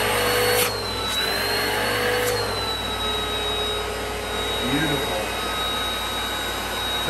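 A vacuum cleaner, powered through a solar inverter, runs with a steady loud whooshing drone and a thin high whine, continuous and close throughout.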